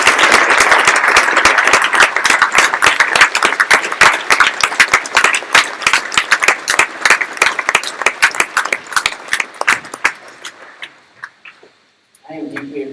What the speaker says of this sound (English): I think another round of applause for Phil today.